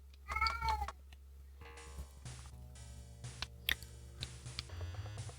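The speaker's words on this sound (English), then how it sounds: "The cats have interrupted me about 5 times." Domestic cats meow close by, with one loud, wavering cry at the start and then shorter, quieter calls over faint electronic game music and ticking.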